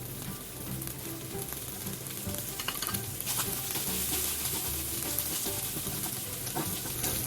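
Oil reused from frying tokwa sizzles in a pan as bean sprouts cook down, a steady close crackling hiss with occasional stirring scrapes and no voices.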